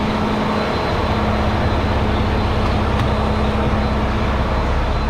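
Truck power takeoff running for a washing pump, giving a loud, steady mechanical drone with a constant hum and broadband rumble, unchanging across the short stretch.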